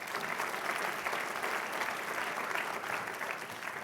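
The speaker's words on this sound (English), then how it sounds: "Let's give a round of applause for the coalition as well." An audience at a small business finance forum's opening plenary applauds in a steady, even wash of clapping that fills the whole stretch without voices.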